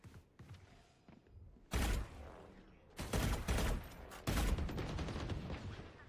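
Gunfire from the Valorant video game: a few soft shots, then several loud rapid bursts of automatic fire separated by brief pauses, close and punchy.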